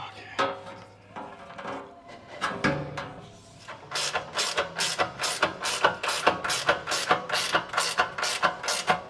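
A ratchet tightens nylon lock nuts on a Peterbilt 359 door, starting with a few separate clicks and clunks, then settling into a fast, regular run of close, crisp ratcheting strokes.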